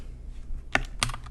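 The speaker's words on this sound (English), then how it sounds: "You type YT-DLP" A command is typed on a computer keyboard: two quick bursts of close, crisp key clicks a quarter second apart over a low steady hum.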